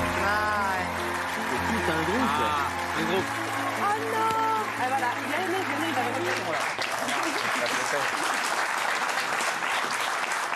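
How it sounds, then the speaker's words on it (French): Light applause from a TV studio audience, a steady patter of clapping running under a talking voice and sung tones throughout. "Alors, c'est des petits applaudissements là"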